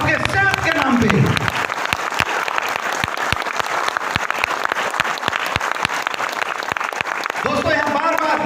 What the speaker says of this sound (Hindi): तो हो जाए जोरदार तालियां आपके सेहत के नाम पे